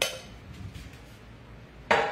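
An 8-inch skillet handled while making cornbread for two: a metallic clink opens and another sharp clank lands near the end, with quiet kitchen shuffling between.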